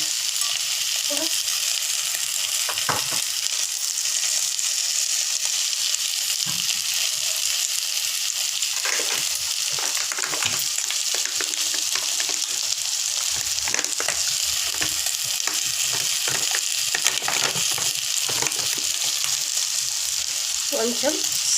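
Mutton bone curry frying with salt, chili and cumin powder, a loud continuous sizzle with repeated spoon scrapes and clanks against the pan across the whole stretch.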